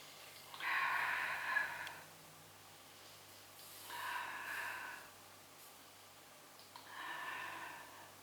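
Three slow, soft breaths out during a relaxed yoga stretch, each a gentle airy exhale lasting over a second, close and quiet with calm pauses between.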